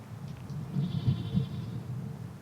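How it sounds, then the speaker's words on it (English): Goats bleat nearby in Israel, with a few short wavering calls around the middle over a quiet outdoor background. "You hear how the goat is making those noises"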